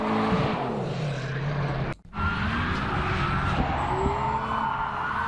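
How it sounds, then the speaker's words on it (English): A DKW drift car fitted with a 1UZ turbo V8 screams loudly past at a track, engine roaring with tire squeal, a sudden brief drop near the middle, then the revving pitch climbs again. "This is the one with the 1UZ turbo in it. Sounding good."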